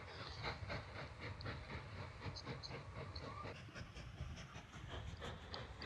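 Log train in the railway-building game Mashinky, a steady chugging rumble with rhythmic wheel clatter and hissing steam, continuous and moderately loud throughout.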